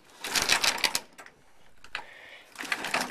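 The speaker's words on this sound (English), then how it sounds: "That's just a temporary motor" A small temporary electric motor turns the steering of a model construction boat, giving bursts of fast clicking, whirring mechanical chatter that stop and start, close up, with no voices.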